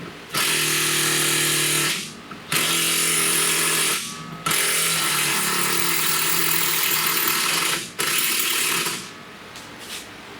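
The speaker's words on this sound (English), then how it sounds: "let's see how that stacks up to the electric impact" An electric impact wrench works loose a rear shock bolt on a 2016 Toyota Highlander, making loud, close, sustained buzzing hammering in three long bursts with brief gaps between them.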